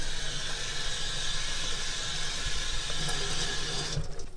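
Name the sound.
cold water from a tap filling a steam cloche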